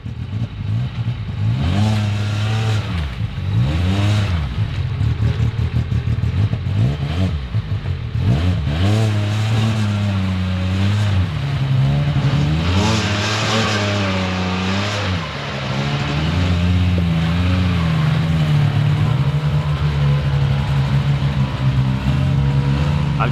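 Loud, continuous engine of an XTR 1000 side-by-side UTV on an off-road trail, rumbling and revving up and down with rising and falling pitch, close to the microphone with no other sounds over it.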